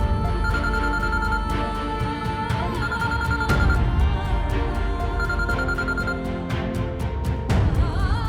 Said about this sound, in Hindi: ये क्यों फोन कर रही है तुम्हें बार बार?